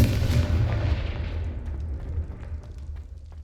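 In the Hogwarts Legacy video game, a Confringo fire spell goes off as a loud, booming blast that decays into a rumbling tail over a few seconds, with no talk over it.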